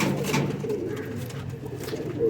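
A Sheikh-type show pigeon coos up close in low, rolling throaty phrases across a couple of seconds, with light background noise.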